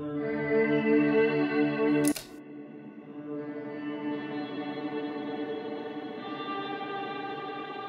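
Electric guitar ringing through a reverb pedal, HX Stomp compared with JET Revelation: a sustained chord is cut off by a short click, then a softer strum blooms into a long, washy reverb tail with no talking.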